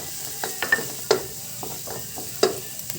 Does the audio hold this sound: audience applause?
no